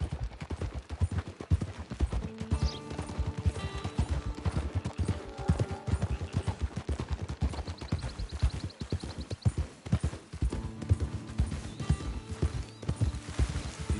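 Horse hooves clip-clop in a steady, rhythmic gait while riding in the Red Dead Online video game, close and prominent, with faint game music tones underneath.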